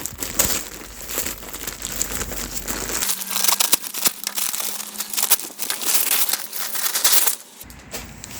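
Plastic packaging around a balcony shade net being torn open and crumpled, with loud close crinkling and rustling in irregular bursts throughout, plus a few sharper tearing rips.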